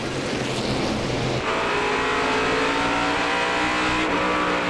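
Stock cars race at Hickory Motor Speedway, a pack roaring loudly and continuously past under green-flag racing, engines droning with rising and falling pitch and a sharp shift in tone midway as cars sweep by.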